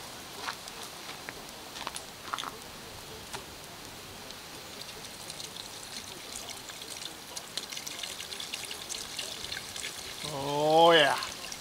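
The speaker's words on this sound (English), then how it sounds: "And I'm going to add a bottle of water." Bottled water trickles and splashes steadily into a pot with beef, faint and close, ending in a brief louder pour; a voice rises near the end.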